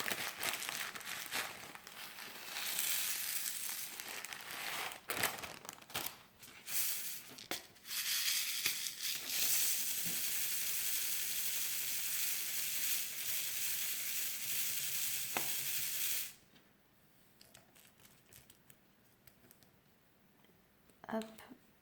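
Crinkly, rattling hiss of small plastic diamond painting drills being shaken and mixed in a container, several bursts of rustling clicks followed by a long continuous shake, then quieter handling near the end.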